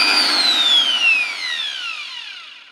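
An Xpart 850-watt hand drill whines at top speed, a loud, close, high-pitched motor tone that slowly drops in pitch and fades as it winds down.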